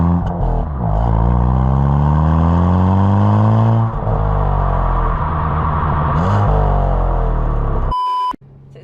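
A Hyundai i20N hot hatch driving under load, its engine and exhaust droning loud and close as revs climb and fall through gear changes, ending in an abrupt cut with a short electronic beep.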